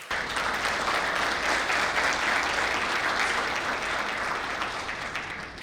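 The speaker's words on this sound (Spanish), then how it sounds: "Recibámoslo entonces con un fuerte aplauso." A conference audience at a business ethics and human rights event gives a strong, sustained round of applause to welcome a speaker, the dense clapping steady throughout and only thinning slightly at the end.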